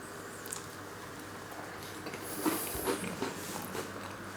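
Someone bites into crunchy bread and butter pudding with toasted bread and currants, giving a few soft crunches and chews up close, fairly quiet.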